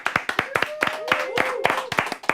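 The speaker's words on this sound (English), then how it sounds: "There, clapping for himself." One person clapping for himself at the close of a livestream interview show, a run of sharp, fairly close hand claps at an uneven pace, with voices and laughter blending in underneath.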